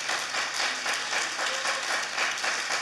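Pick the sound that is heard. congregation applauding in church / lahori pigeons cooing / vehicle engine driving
congregation applauding in church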